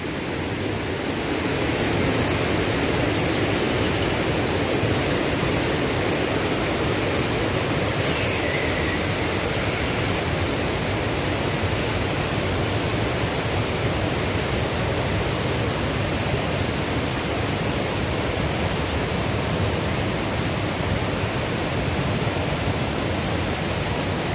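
The Nice River in Manchester, Jamaica rushes steadily, a loud, unbroken wash of flowing water that fills the whole stretch with constant hiss and roar.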